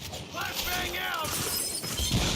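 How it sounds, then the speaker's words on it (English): A flashbang grenade goes off in the video game Gears 5, a bright shattering burst under excited voices calling out over the game noise. "Flashbang out!"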